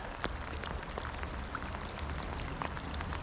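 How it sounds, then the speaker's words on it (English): Heavy rain pours onto the water during a trout fishing trip, a dense steady hiss with scattered sharper drop splashes, continuous and loud throughout. "It's really raining out."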